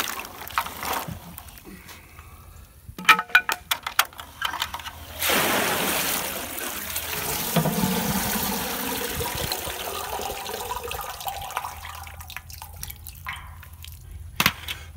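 Muddy rinse water sloshes and pours out as a container of freshly dug peanuts is tipped and drained, a loud splashing rush lasting several seconds after a few clattering knocks, trailing off into drips.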